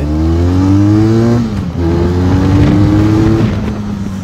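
A Benelli Leoncino 500 motorcycle engine revving loudly and close, pitch climbing through one rev, dipping briefly, then rising again before settling.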